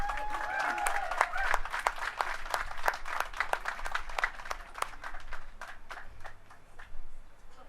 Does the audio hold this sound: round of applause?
yes